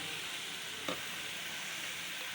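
Eggs stir-fried in a pan for homemade noodles, a steady soft sizzle with one brief scrape of the spatula partway through, close and alone.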